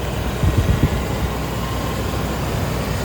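A used Land Rover Discovery II engine idles with a steady, even low rumble, close and continuous, with a few brief knocks near the start and no voices.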